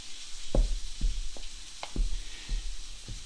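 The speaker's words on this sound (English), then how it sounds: "I'm just going to stir that in." Pancake batter with baking powder and baking soda being stirred in a bowl, a run of about six sharp knocks and scrapes spaced roughly half a second apart, close and fairly quiet, with no talking.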